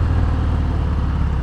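A 2020 Harley-Davidson FXDR 114 motorcycle engine running loud and close with a deep, throbbing low rumble, holding a steady raised idle without a distinct sharp rev peak over the short span.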